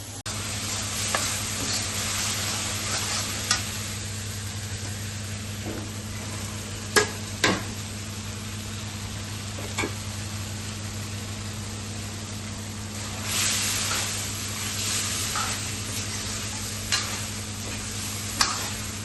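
A spoon stirs vegetable sabji with water in a pot on a home kitchen gas stove, giving scattered scraping clinks and light knocks over a steady low hum and soft simmer, with no voices.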